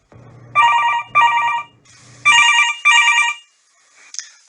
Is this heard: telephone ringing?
yes